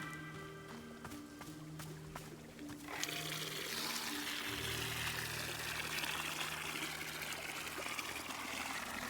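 Water pours onto a plant in the cozy video game Wanderstop, a steady splashing trickle that starts suddenly and runs continuously over soft background music.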